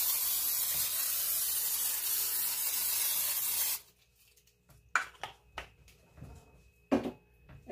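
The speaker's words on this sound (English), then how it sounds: "I'm just going to grab my cookie sheet and I'm going to spray it down" A continuous hiss of cooking spray onto a cookie sheet for about four seconds, then stops, followed by a few soft clicks and taps nearby.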